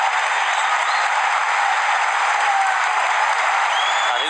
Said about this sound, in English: And listen to the cheer there for Mo Salah.